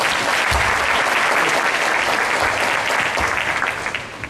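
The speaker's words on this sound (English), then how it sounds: "Give me my clap." Audience at a business summit applauding a speaker, a dense, steady wash of many hands clapping that stays loud and then starts to thin near the end.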